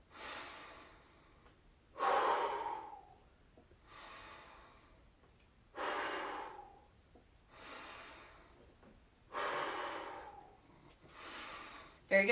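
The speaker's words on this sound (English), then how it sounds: "add breathing here. Breathe out, breathe in." Slow, deep breaths in and out during a gentle spine-rounding exercise, four long audible exhales spaced evenly a few seconds apart, close up and rhythmic with quiet gaps between.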